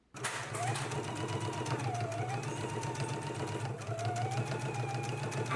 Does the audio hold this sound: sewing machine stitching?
yes